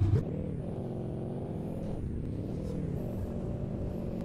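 A Nissan Titan Warrior pickup truck climbs an off-road slope, its engine a steady close rumble holding under load, with a brief thump at the start and a faint high whine above.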